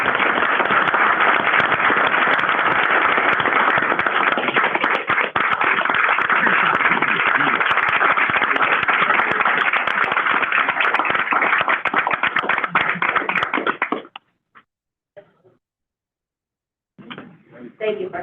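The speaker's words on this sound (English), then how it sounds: "Thank you for clapping." Audience at a board of education meeting applauding for about fourteen seconds, a loud continuous rattle of many hands clapping, then cutting off abruptly with a few stray claps and a voice starting to speak.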